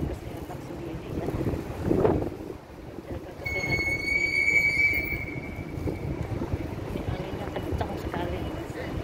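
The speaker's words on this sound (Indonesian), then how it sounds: "Terpa angin, saking kencengnya angin." Strong wind rushes across an open outdoor spot, a loud continuous roar that swells and buffets the microphone, with a brief high whistling tone rising through the middle.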